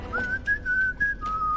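A single clear whistled melody holds a steady, slightly wavering high tone, with small pitch steps across a few short phrases and a low murmur underneath.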